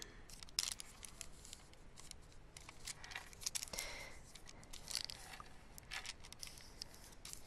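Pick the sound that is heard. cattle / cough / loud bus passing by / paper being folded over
paper being folded over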